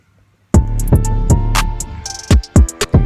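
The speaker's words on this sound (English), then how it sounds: "So this is the kick pattern I've got for the moment." Kick drum pattern programmed in GarageBand iOS, with booming low thumps in an uneven rhythm alongside crisp hi-hat ticks, loud and close, starting after a short silence.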